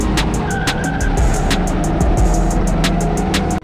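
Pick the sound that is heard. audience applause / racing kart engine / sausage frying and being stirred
racing kart engine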